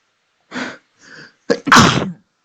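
One loud, close sneeze from a person: two soft preparatory inhales followed by a sharp, explosive burst, then silence.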